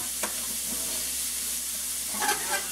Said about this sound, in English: I'm going to cook this down until the onions are starting to get a little brown.